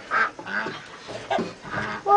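Fowl carry on outdoors with a few short, scattered quack-like calls.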